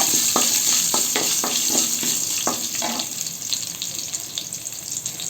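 Green chillies and ginger fry in a pan, a loud steady sizzle with a run of rhythmic scraping strokes as the mix is stirred, which then gives way to continuous hissing.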